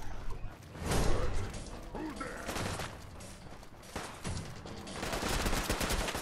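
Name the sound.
assault rifle gunfire from gunners in video game Fallout 4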